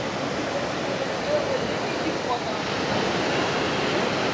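Iguazu Falls at Devil's Throat in Brazil sends up a dense, steady roar of falling water that holds close and loud from start to finish, with no break in the wash of sound.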